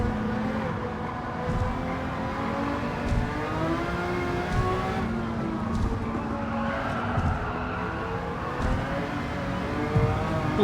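A Jaguar F-Type R from 2014 with a swapped engine, driven hard in a Tokyo racing video game, its engine note held high and revving with rising and falling tones at a moderate, steady level.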